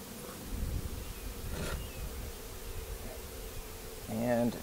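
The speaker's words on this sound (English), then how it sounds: "I'm gonna have a cloud of bees around my head if I don't move it." Honeybees buzzing in a dense cloud around an open hive frame during a beekeeping inspection, a steady close drone that swells louder near the end, with faint talk underneath.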